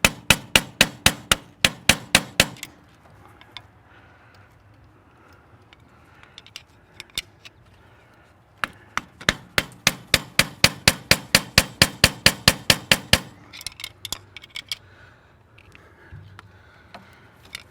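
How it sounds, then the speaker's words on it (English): Metal hammer blows strike a screwdriver while adjusting the fuel pump on a diesel turbocharged New Holland TL-90 tractor. Two long runs of rapid, evenly spaced loud clanks, separated by a quieter stretch with a few scattered taps. "You might want to hit on this screwdriver instead of that wooden handle"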